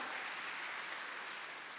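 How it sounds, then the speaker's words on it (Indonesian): Congregation applause during a Sunday church service, a soft, even wash of many hands clapping that carries steadily throughout, fairly distant and with no speech over it. "Tepuk tangan bagi Allah kita."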